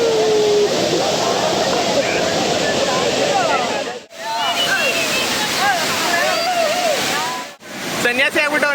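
Hidden Falls in Kalasa roars as a loud, continuous rush of falling water close by, broken by two brief dips, with a voice briefly heard over it.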